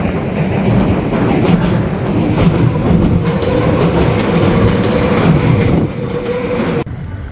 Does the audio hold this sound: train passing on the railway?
yes